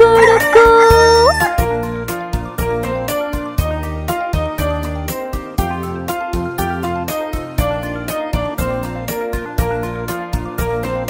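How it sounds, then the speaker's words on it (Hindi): A rooster crows once at the start of a Hindi children's rhyme, then a bouncy rhythmic music beat with steady percussion takes over and carries on. "छत के ऊपर मुर्गी बोले कुकुड़को"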